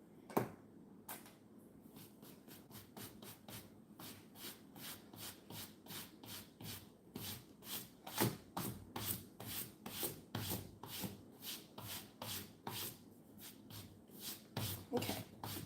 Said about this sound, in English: You can see where I have skived or just sanded away the edges.